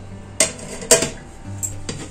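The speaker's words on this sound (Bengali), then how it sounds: "এখন ঢাকা দিয়ে রেখে দেব।" A lid is set on a cooking pot with a few sharp metallic clanks, two louder knocks followed by a lighter rattle, close by with no talking.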